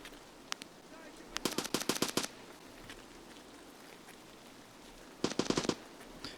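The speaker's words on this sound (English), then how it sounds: "Where's this person shooting at you from?" Automatic gunfire in a shooting video game comes in two sharp, rapid bursts of closely spaced shots, loud and nearby, with scattered single shots between them over a steady background.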